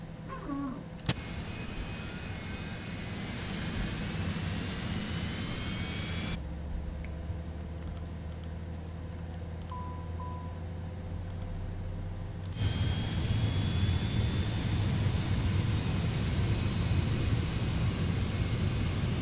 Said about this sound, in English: Left engine start.